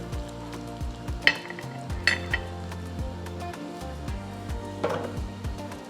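A tempering of garlic, curry leaves and asafoetida sizzles in hot oil for dal, with a steady crackle punctuated by a few sharp pops and light clinks of a utensil.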